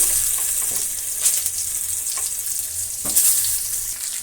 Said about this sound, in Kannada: ಈಗ ಅದಕ್ಕೆ ನೋಡಿ ಒಂದೊಂದಾಗಿ ಬದನೆಕಾಯನ್ನು ಹಾಕೋಣ ಬಾಣಲೆ ಒಳಕ್ಕೆ